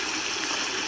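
Water gushes into a goat water trough on a farm as a steady, close, loud rushing stream with no breaks.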